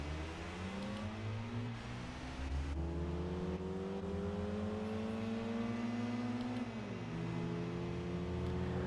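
A race car engine in Gran Turismo 4 revs hard and climbs in pitch, dropping sharply at two gear shifts before rising again. The engine stays loud and continuous throughout.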